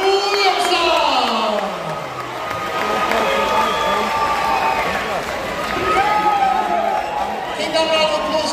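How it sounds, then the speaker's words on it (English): A boxing crowd in Newcastle applauds and cheers a fighter: continuous roaring cheers and clapping from a large audience, with an announcer's amplified voice riding over the noise. "Keep that round of applause going as well"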